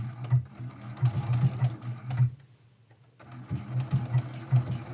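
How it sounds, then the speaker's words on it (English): A sewing machine stitches down appliqué fabric for a medallion quilt with tiny stitches, a close, steady mechanical whirring in bursts that pauses briefly in the middle before resuming. "It's a tiny little stitch that it's actually going into that applique fabric and stitching it down"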